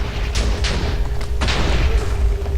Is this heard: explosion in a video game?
yes